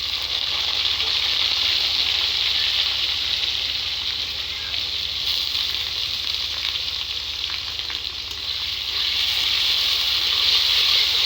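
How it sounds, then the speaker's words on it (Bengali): Thinly sliced round potatoes fry in hot oil with browned onions for pasta, giving a loud, continuous close-up sizzle that crackles steadily and never pauses. "এই আলুটা আমি এই তেলের সাথে একেবারে ভাজা ভাজা করে নেব"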